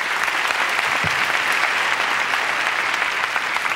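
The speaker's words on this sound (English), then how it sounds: "Let's give Dylan a nice round of applause" Steady, dense audience applause fills a Las Vegas magic show theater at Caesar's Palace, a continuous wash of many hands clapping at close range with no speech over it.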